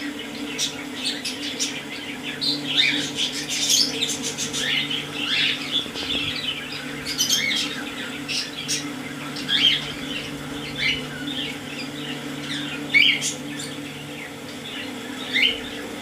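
Lovebirds and cockatiels at Korangi bird market chirp and squawk in a dense, continuous chorus of overlapping tweets and calls, with a steady low hum of market background beneath.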